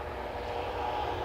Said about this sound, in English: You can hear that ATR running the engine test in the background